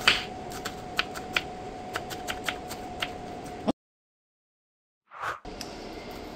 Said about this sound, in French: Et je vais découper mes oignons.